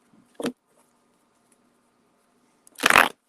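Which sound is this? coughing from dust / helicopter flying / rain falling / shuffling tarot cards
shuffling tarot cards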